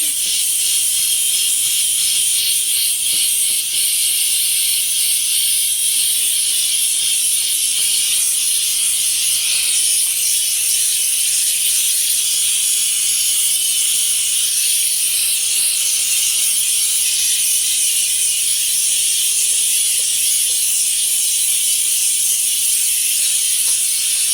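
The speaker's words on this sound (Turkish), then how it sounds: "Böyle de kaynıyor arkadaşlar" Liquid boils in a steam cleaner with a loud, steady hiss and a dense bubbling crackle, continuous throughout with no pauses.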